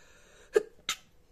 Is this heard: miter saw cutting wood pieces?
no